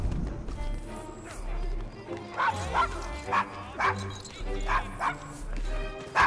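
A dog barks repeatedly in the Devil's Acre area of the game Assassin's Creed Syndicate, a series of sharp, fairly close barks over a low background rumble, with voices heard around them.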